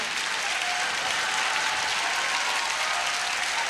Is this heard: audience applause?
yes